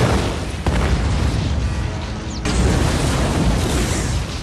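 A film grenade explodes inside an alien's mouth, producing a loud, dense booming roar that sustains for several seconds with a sharp crack near the start and another surge midway.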